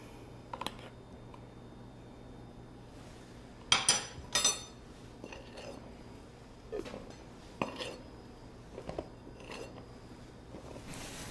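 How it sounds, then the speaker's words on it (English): All-purpose flour is fluffed and leveled with a knife in a mixing bowl, giving soft scrapes and a few sharp metallic clinks and taps in uneven bursts, fairly close, with no talking. "to measure, I'll just fluff the flour up and level it off with a knife."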